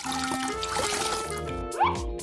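Water spilling and pouring across a floor, a steady liquid splashing and trickling with a brief louder slosh near the end.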